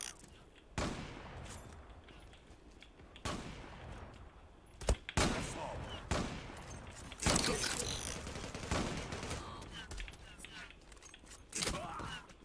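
Gunfire in the online shooter Zula, scattered sharp shots and short bursts coming in uneven clusters over a steady background of game sound, with someone talking now and then.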